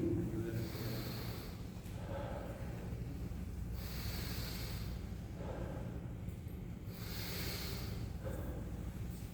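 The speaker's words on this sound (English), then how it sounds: "Breathe." Slow, deep breathing during a breathing exercise, several long audible inhales and exhales in a steady rhythm, close and soft over a low background hum.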